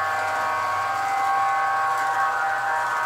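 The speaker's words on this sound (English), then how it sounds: "There's the nice horn." Horn of a Lionel Flying Yankee model train built with MTH Proto 3 electronics, a steady sustained multi-tone blast held for about three seconds, fairly loud and close, with no talk over it.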